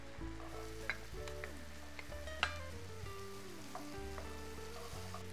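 Half an onion sizzles in light margarine in a pan, a steady close frying hiss with a few small pops, over a soft tonal musical bed.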